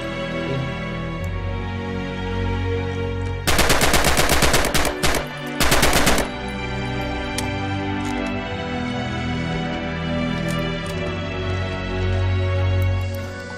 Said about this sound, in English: Use blind fire now and see what you can hit.